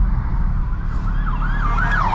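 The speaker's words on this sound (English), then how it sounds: "Get out of the way, we've got an ambulance." An ambulance siren wails steadily as it passes on the road, its rising and falling tone loud and close over the constant low rumble of a 400hp VW Golf R's engine and road noise.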